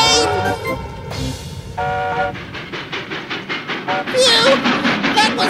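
A train passes with repeated whistle toots over a rhythmic clatter of wheels on rails, loud and close, while voices talk over it.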